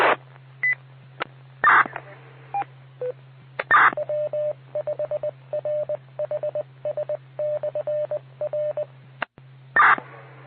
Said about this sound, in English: Your tones were extremely distorted.